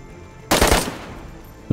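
DayZ gunfire: a loud close burst of several rapid shots lasting about a third of a second, followed by a fading echo and then another sharp shot at the end.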